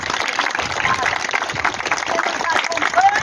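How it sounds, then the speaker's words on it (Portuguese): A church crowd applauds at a centenary triduum celebration, a dense, lively stretch of clapping that carries steadily throughout, with voices and cheering mixed in. "Então, uma salva de palmas para os nossos"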